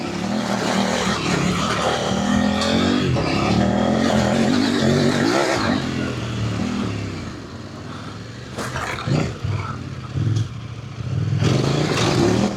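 A Kove 800X Pro motorcycle engine revs hard off-road, loud and rising through throttle bursts, with rattles and scraping from the rough terrain and brief dips between pulls.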